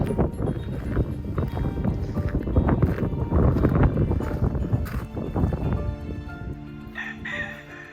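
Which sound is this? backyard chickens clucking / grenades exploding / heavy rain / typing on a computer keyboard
backyard chickens clucking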